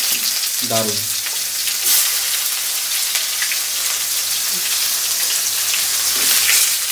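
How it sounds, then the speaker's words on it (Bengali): Chopped onions frying in a hot kadai, a loud, continuous crackling sizzle throughout with stirring scrapes, and a short exclamation spoken early over it. "এখন আমি কিছু পেঁয়াজ দিয়ে দেব। কিছু কুচানো পেঁয়াজ যাবে এখন।"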